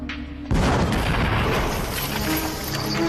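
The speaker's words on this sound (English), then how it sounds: "Again, the explosion rocks the quarry." A replica medieval bombard cannon fires in a quarry: after half a second of quiet, one loud, deep blast bursts out, and its heavy rumble rolls on and echoes for the rest of the clip.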